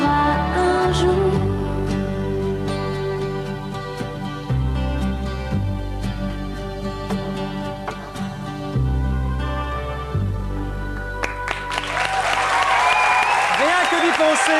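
A television studio audience applauds a French-speaking Belgian singer after her song on a 1997 music show, with clapping that swells toward the end over lingering music and a host's voice.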